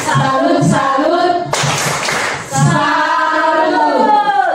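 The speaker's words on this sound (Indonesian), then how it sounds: "Mulai 1, 2, 3. Tepuk salut." A group of people performs the 'tepuk salut' salute clap, a loud burst of clapping in the middle of a rhythmic chant, with voices before and after it.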